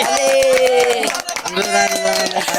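A run of quick, crisp hand claps at a four-year-old girl's birthday party, mixed in with loud singing and chatter from people nearby.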